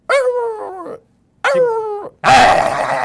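A person imitates an angry dog with two drawn-out, strained whining growls followed by a harsh, noisy snarl, loud and close with no other voices.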